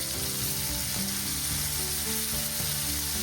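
Steak sears in a hot pan with a loud, dense, continuous sizzle and a few soft scraping knocks of a utensil against the pan.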